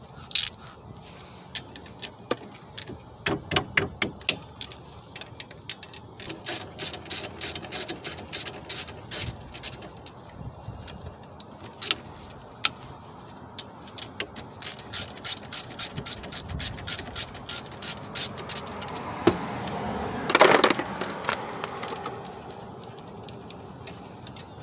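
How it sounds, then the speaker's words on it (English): A ratchet wrench with a 14 mm socket backs out the old brake caliper bolts on a 2009 Chevy Cobalt: runs of quick, crisp clicks come and go in repeated close bursts, separated by short pauses and small clanks. "Next, I'm going to remove the old caliper, and that takes a 14 millimeter."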